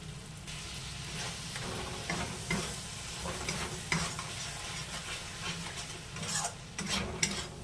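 Beaten sour yogurt stirred into spiced masala frying in oil, producing continuous sizzling with repeated scraping spoon strokes against the pan, close and moderately loud, without speech.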